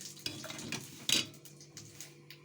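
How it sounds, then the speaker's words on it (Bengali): Cumin, black cumin and radhuni spices crackling in hot oil, a soft, close sizzle broken by a few sharp spatula clinks and scrapes against the pan. "তেলটা গরম হয়ে গেছে আমি দিয়ে দেব ওই জিরে কালো জিরে আর রাঁধুনি ফোড়ন"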